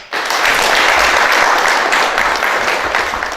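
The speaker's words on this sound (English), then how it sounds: "Let us give each and every single stakeholder a big round of applause." Loud, sustained applause from a large audience at a university human rights competition ceremony, a dense wash of clapping filling the hall for a few seconds without pause.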